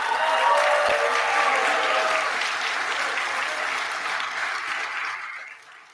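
Sustained applause from an audience honoring graduates at a manufacturing training cohort graduation ceremony, loud and steady for several seconds before tapering off near the end.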